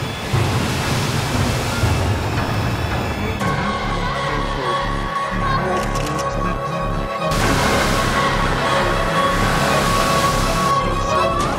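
Large waves crash and roll in a steady, loud wash of surf noise with no break, swelling and easing across the whole stretch.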